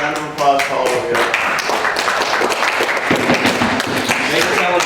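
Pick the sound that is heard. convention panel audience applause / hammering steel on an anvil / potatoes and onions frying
convention panel audience applause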